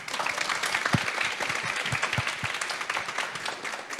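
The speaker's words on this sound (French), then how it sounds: "On peut l'applaudir," An audience applauds at a university talk on international studies, with a few sharper, closer claps standing out from the steady clapping for about four seconds.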